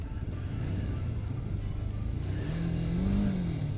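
Kawasaki Ninja 500 motorcycle engine revving steadily at close range, a loud continuous mid-pitched drone that climbs in pitch toward the end as the throttle opens.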